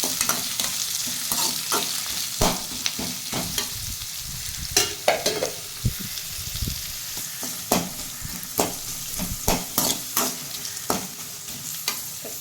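Sliced big onions fry in hot oil for a cauliflower kurma, a continuous sizzle broken by frequent rhythmic spatula scrapes and clacks against the pan, close and clear with no voices.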